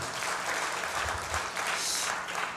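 Sustained applause from a church congregation fills the room, a dense, steady wash of many hands clapping without pause, with faint voices mixed in underneath.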